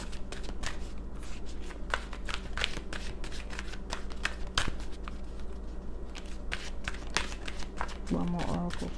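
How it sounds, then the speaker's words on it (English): Oracle cards are shuffled by hand in a continuous close riffling and crackling of card stock during a tarot reading, with a voice speaking briefly near the end. "So I'm going to pull one more oracle card."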